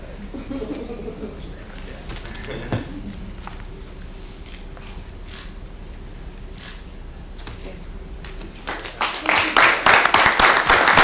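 Applause from the audience at a Madison schools board meeting breaks out near the end, a dense burst of clapping that rises out of a quiet room with low murmuring.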